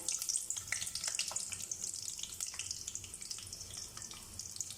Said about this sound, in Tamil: சின்ன வெங்காயம் உரித்து வச்சுருக்கேன், இதையும் போட்டுக்கலாம்